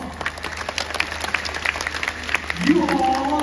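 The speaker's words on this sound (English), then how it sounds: "Give yourself a big round of applause." Audience applause at a sea lion show at Singapore Zoo: a steady wash of many hands clapping through the whole stretch, swelling louder near the end, with a voice talking over it.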